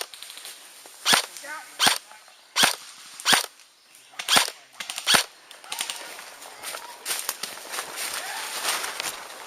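Airsoft guns fire outdoors during a game: sharp, spaced single cracks at first, followed by a quicker cluster of lighter shots, with faint talk in the background.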